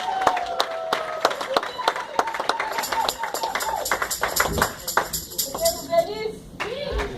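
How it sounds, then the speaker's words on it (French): A church congregation claps in a burst of scattered, uneven applause, sharp hand slaps overlapping near and far while voices call out and chatter over it before the clapping thins out. "On les applaudit très fort"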